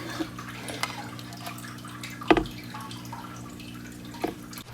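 Water drips and trickles in an aquarium tank as albino plecos are released after acclimating, a few scattered splashes and plinks over a low steady hum, one louder pour in the middle.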